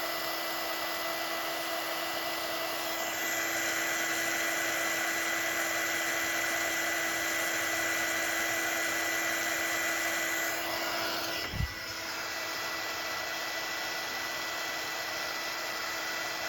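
A heating tool blows a steady, whining rush of air onto heat shrink and glue over car trailer wiring, continuous and fairly close, with a brief knock near the end.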